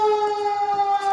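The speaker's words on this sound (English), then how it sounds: "Does your masher always make that loud siren noise?" A loud, steady electronic siren tone from a kitchen food masher signaling it is nearly done, a sustained pure wail close up with no talk over it.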